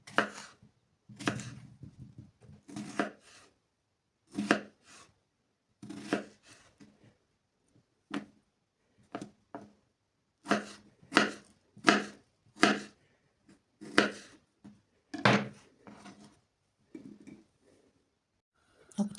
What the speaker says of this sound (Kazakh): Енді огурцы, помидорды турап аламыз.